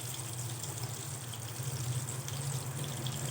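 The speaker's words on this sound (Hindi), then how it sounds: "तो अब हम इसमें टिक्कियाँ डाल देंगे। पानी डाल देंगे।" Water poured into a pan where potato tikkis are frying, a steady rushing pour with a sizzling hiss underneath, close and continuous with no talking.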